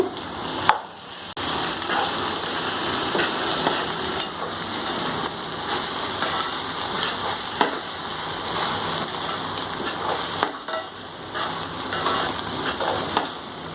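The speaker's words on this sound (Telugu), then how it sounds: "అల్లం వెల్లుల్లి పేస్ట్ 3 స్పూన్స్కి వేసుకున్నాను ఫ్రెండ్స్. అది పచ్చివాసన పోయేదాకా ఫ్రై చేసుకుందాము" Ginger garlic paste frying in a pan for a prawn and gongura curry gives a steady, even sizzle with faint crackles, running unbroken at moderate loudness with no talking.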